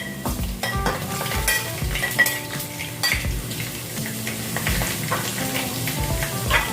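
Onion frying in a pan, a steady sizzle under repeated scraping and clinking of a metal utensil stirring against the pan, close and fairly loud with no talking.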